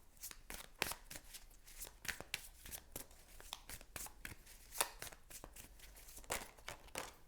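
Tarot cards being shuffled by hand, soft quick riffles and flicks of card stock repeating in an irregular rhythm, close up and quiet with no talking.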